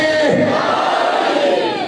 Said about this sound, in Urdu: سب مل کے نعرہ حیدر